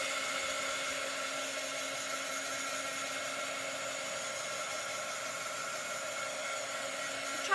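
A hair dryer blows steadily and close by as it dries chalk paste, a constant whirring hiss lasting the whole stretch with no pauses.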